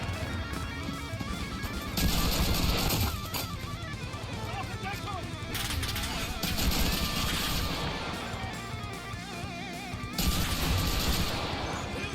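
Bursts of MP38 submachine gun fire from a German-side loadout in the WW2 shooter Enlisted, coming in loud clusters over continuous battle noise, with talk running through much of it.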